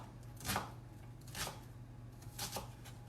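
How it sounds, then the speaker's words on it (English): Knife chopping an onion into very small pieces for a homemade barbecue sauce, with three spaced bursts of blade strikes on a cutting board over a steady low hum, nearby and moderately loud. "all I'm doing is chopping the onion."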